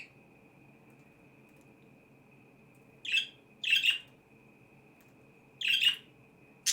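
Pet birds let out short squawking chirps in a few separate bursts over a steady high electronic whine and low room hum.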